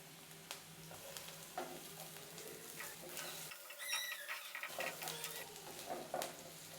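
Onion browned pink with ginger-garlic paste sautéing in a pan for dalia khichdi, a steady close sizzle with scattered stirring scrapes and a brief lull partway through.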